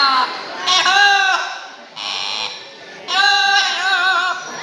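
A parrot's shrill, harmonic squawks and whistles come in three loud bursts, imitating sounds, with brief gaps between them, at a bird show at Cebu Safari in the Philippines.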